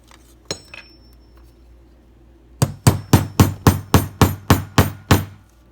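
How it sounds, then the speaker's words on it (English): A hammer drives nails into a dog door flap made from a double layer of material. After two light taps come about ten sharp, evenly spaced blows, loud and close. "I'm gonna go ahead and nail it down real quick."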